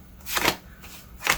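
Playing cards are shuffled in two quick riffling bursts, close and crisp, separated by a short pause with no talking.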